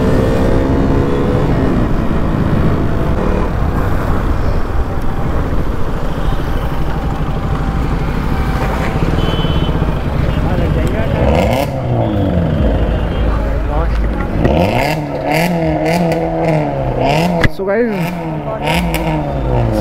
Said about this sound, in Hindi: कार स्विफ्ट की आवाज सुनो एग्जॉस्ट की